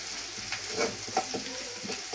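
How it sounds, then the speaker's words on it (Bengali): Garlic fries in a pan on a wood-fired stove, a steady soft sizzle with occasional stirring scrapes and small pops, close and moderately quiet throughout. "এই রসুনটুকু একটু আমি ভেজে নিব।"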